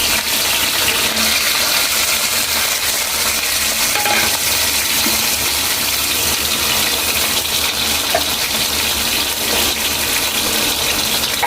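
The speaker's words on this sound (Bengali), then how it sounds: "পটলগুলোকে ভালো করে ভেজে নেবো।" Pieces of pointed gourd (potol) fry in oil after shrimp in a Bengali potol-shrimp dish, giving a loud, continuous hiss and bubbling sizzle throughout with no talk.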